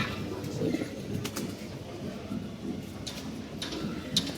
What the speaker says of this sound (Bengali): এই যে কবুতর উঠতেছে